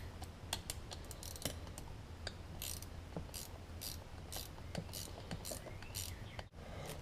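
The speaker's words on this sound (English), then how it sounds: "Take our 10mm, snug this bolt up." A hand ratchet with a 10mm socket snugs a bolt on a Yamaha Blaster's bottom end, giving rapid crisp clicks in uneven bursts, close and clear.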